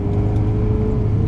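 A 2007 Ferrari F430 driving, heard as a steady, low engine drone from inside the car, brief and fairly loud, with no talking.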